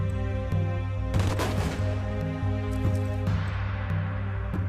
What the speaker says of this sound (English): They are executed by firing squad.